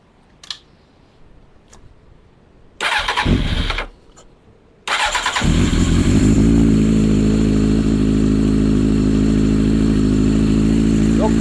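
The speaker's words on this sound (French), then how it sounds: "Gentlemen, start your engine." An engine starts up close by: a couple of faint clicks, a short cranking attempt, silence, then it fires and settles into a loud, steady, rhythmic idle that continues to the end.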